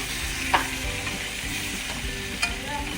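Onions frying in hot oil in a kadai with bay leaf and whole garam masala, a loud continuous sizzle with a couple of sharp stirring clinks close by.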